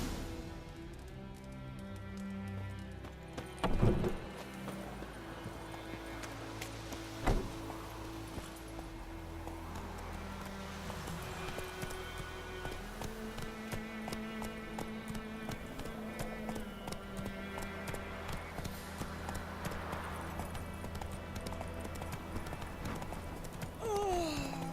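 Geralt's horse Roach trotting in The Witcher 3: Wild Hunt, a steady rhythmic clip-clop of hooves over quiet outdoor ambience and music, with a couple of louder thumps early on.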